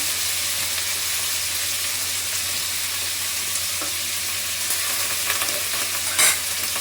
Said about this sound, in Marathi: आता हे सगळं एकत्रच टाकणार आहे मी. अद्रक घेतलं आहे, लसूण पण टाकायचं आहे.